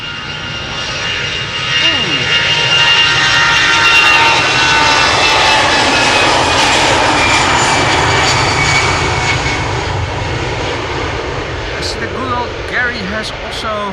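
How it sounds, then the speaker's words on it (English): A 13-year-old Airbus A320 departs Amsterdam Schiphol Airport with a loud, close, sustained engine roar that swells early then holds steady, while a voice talks over it. "A320, flight 22162, 13 years old, first flight March 2011."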